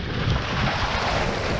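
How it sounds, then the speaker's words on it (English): Sea waves break and wash on a reef shore at Lilstock, a constant rough roar heavily buffeted by wind noise on the microphone. "the waves are coming over."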